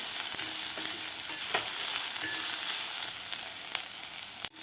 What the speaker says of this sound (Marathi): आलं लसूणची पेस्ट घातल्यानंतर आपल्याला एक मिनिटभर कांदा आणि आलं लसूणची पेस्ट व्यवस्थित परतून घ्यायची आहे